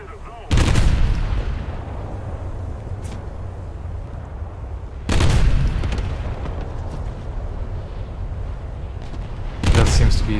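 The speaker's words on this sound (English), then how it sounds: "This thing's already shooting me." Heavy shell impacts and booming salvos hit a cruiser during a naval battle game, three loud broadband blasts spaced several seconds apart over a constant rumble of battle noise.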